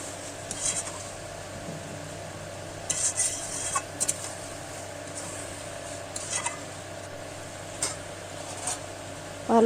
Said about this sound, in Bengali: মাংসটা দিয়ে আমি ভালো করে কষিয়ে নিব।